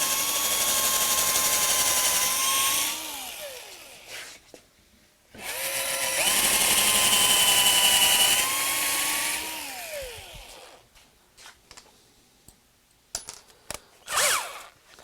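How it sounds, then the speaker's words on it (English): Power drill boring a second hole into wood for a ski chair, two loud sustained whining runs with the motor pitch dropping as each one winds down, followed by scattered clicks and handling noise. "Now I'm going to go ahead and drill the second hole."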